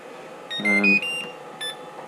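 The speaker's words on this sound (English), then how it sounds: "So your buzzer's going to keep going off" A short run of electronic beeps from a LiPo battery charger buzzer, bright, close-up tones in a quick uneven pattern, then a final single beep.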